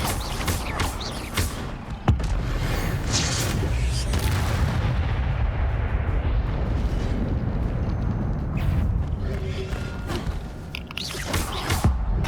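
An Incendio fire spell cast in Hogwarts Legacy bursts with a sharp thump and then a dense, roaring whoosh of flame that holds steadily for several seconds, loud and close, ending in a few crackling hits.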